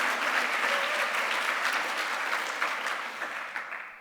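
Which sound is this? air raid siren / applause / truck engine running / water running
applause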